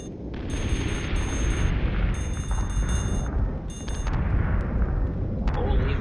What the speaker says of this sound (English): Holy missile barrage.